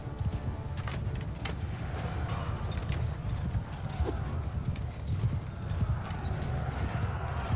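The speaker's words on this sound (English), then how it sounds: "What are you running after? Oh, a horse." Horse hooves clop in a steady galloping rhythm in the medieval combat game Mount & Blade II Bannerlord, set against a dense, continuous game soundscape at moderate volume.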